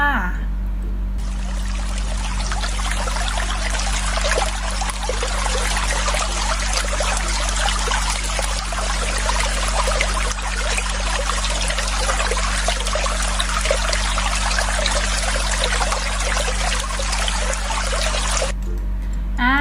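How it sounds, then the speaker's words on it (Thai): Water flows continuously in a steady, loud splashing trickle from a natural source, holding constant for most of the stretch before cutting off near the end, with a low hum underneath. "เป็นเสียงน้ำไหลค่ะ"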